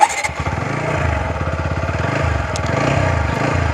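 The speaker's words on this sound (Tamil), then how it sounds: "இப்போ நான் உங்களுக்கு வண்டியை வந்து ஸ்டார்ட் பண்ணி காட்டுறேன்." A TVS Apache RTR 160 4V BS6 motorcycle engine starts with a brief crank, then settles into a steady, close, throbbing idle with a regular low pulse and no talk.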